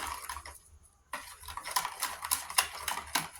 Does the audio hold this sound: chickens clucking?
no